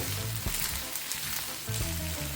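Jerk salmon fried rice sizzles in a pot as it is slowly stirred and folded, a steady close frying crackle with soft scraping strokes throughout and no talking.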